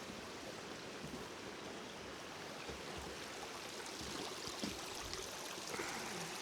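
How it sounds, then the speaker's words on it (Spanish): A river runs beneath a bridge on a rural trail, its water rushing in a continuous, close, broadband stream with no talking over it. "el río, que la verdad que esto seguramente en otro momento estará incluso seco, pero mira cómo corre en estos momentos"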